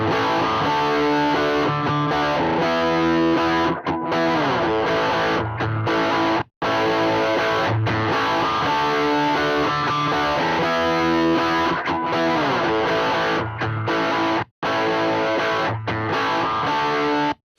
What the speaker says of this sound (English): I still have this effects section, which is basically an overdrive pedal